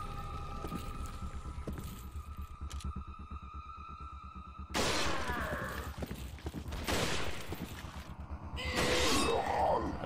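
Gunfire at the Gyarados boss in Resident Evil 4, a rapid series of shots over a low droning hum, followed by loud bursts of splashing and crashing water.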